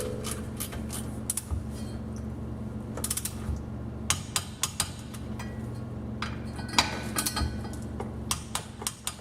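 Ratchet clicking on the driveshaft bolts of a Jeep WJ with the transfer case in gear, sharp metallic ratcheting bursts in several short runs with brief pauses between, close and fairly loud.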